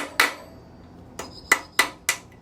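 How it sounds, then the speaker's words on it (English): A small ball peen hammer strikes metal while installing a RideTech StreetGRIP rear suspension with a CPP pocket kit on a Chevrolet Bel Air: five sharp, ringing blows, one alone and then a quick run of four, close and clear. "Use my little ball peen action."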